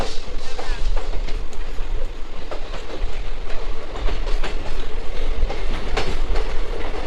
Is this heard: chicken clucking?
no